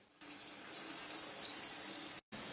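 Half a cup of water poured into chicken korma gravy in a home kitchen: a steady, soft, hissing pour that lasts about two seconds and stops briefly near the end.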